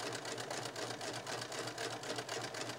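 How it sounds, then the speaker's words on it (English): A sewing machine stitches in the ditch along a mitered quilt binding, a steady fast rhythmic whirring chatter running continuously at close range with no talk over it. "We want just to hit right in this ditch, which is where the seam was. It's called stitching in the ditch."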